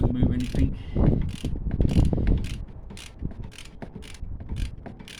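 A ratchet with a 16mm socket tightens the wiper arm nuts on a 2009 Renault Megane, giving bursts of close mechanical clicking and rattling with uneven rhythm over some handling noise.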